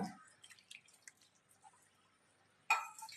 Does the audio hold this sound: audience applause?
no